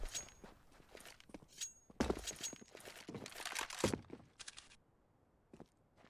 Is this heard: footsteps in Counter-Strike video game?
yes